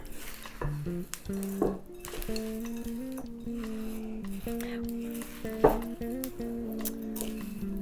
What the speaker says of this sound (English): just stir to combine